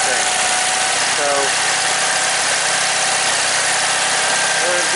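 A small tractor engine idles steadily outdoors in cold weather, a constant loud mechanical drone with a faint knocking texture, continuous throughout with no pauses.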